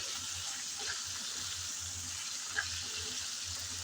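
Chicken fries gently in a pan, a soft, steady hiss with faint bubbling and one small pop, quiet and close, with no voices.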